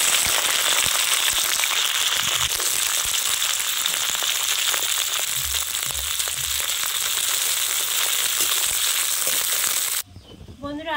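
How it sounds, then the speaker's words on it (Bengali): Beans fry in a pan of white oil and ghee with a loud, steady sizzle and crackle throughout, cutting off abruptly near the end. "এখন বিনসগুলো দিয়ে দেব।"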